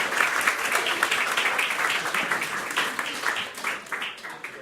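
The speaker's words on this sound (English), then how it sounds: "I would like you all to give yourselves a round of applause just for showing up tonight" A crowd at an evening storytelling event applauds, a dense patter of many hands clapping at once that stays loud and steady, then eases slightly toward the end.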